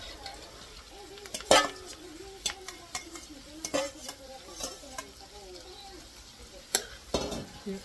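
Onions and carrots stir-fried in a pan for fried lumpia, with a soft background sizzle punctuated by irregular scraping and clinking of a utensil against the pan, fairly quiet and close.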